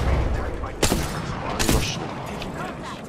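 Gunfire in the video game Apex Legends, with two loud bursts of shots over a dense rumbling mix of game noise and players talking.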